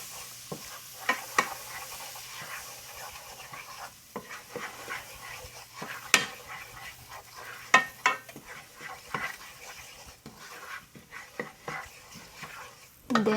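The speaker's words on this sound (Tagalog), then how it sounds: "There, haluin lang natin siya." Salt, black pepper, chili flakes and garlic powder are stirred together in a bowl, giving soft intermittent scraping and clinking taps at close range over a faint steady hum.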